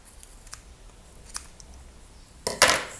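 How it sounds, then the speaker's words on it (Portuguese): Scissors trim the ends of yarn on a crochet bag: soft rustling and faint clicks, then one crisp, close snip near the end, with no one talking. "aqui eu vou aparar esse terceiro que eu fiz"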